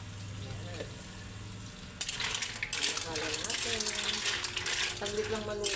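Mussels sauté in a pan with oyster sauce, a bright frying sizzle that swells suddenly and keeps hissing, with clinks of utensils on the pan and a voice talking faintly.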